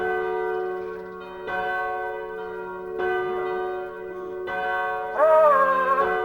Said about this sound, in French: j'espère qu'on les entend loin, les cloches d'ici